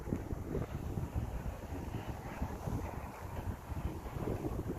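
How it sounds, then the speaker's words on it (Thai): A strong northeast wind buffets the microphone in a continuous low, rumbling roar that gusts unevenly throughout. "ลมแรง"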